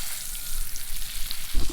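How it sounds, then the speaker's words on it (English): Steak sizzling over a campsite cooking fire, a steady close crackle with a small burst of sharper pops near the end. "Steak going on."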